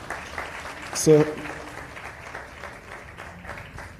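Moderate applause from a seated audience at a sales masterclass workshop, with a sharp louder burst near the start and a faint voice over the clapping.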